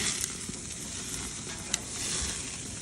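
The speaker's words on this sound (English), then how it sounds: "We do a little flip and kick them around a little bit." Burgers sizzle steadily on a backyard barbecue grill while a spatula flips and nudges them around, a continuous crackling hiss with one brief sharp scrape near the middle.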